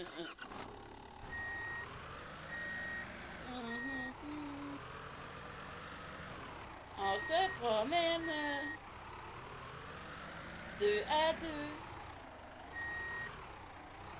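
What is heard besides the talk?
truck reversing beeps in a video game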